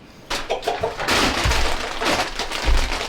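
Chickens inside a coop cluck and murmur in short, close bursts, with rustling and shuffling bedding sounds in between and no talking.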